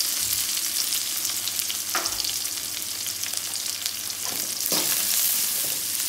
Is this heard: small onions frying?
yes